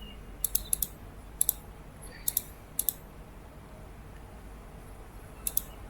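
A computer mouse clicks in short pairs and clusters, crisp and close, spread over several seconds against quiet room noise.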